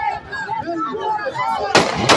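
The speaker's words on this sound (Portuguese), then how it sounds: "o cara veio, esticou a mão para dentro do carro e deu 3 tiros" Gunshots fired point-blank into a car, from a played-back recording: talking fills the first part, then two sharp, loud bangs burst out near the end.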